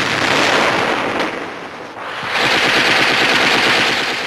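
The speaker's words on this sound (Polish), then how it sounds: "Z mostu Poniatowskiego artyleria niemiecka ostrzeliwuje Powiśle, zwłaszcza elektrownię." German artillery and gunfire shelling Powiśle during the Warsaw Uprising, loud dense bursts of rapid shots and blasts that dip briefly, then return as rattling machine-gun fire.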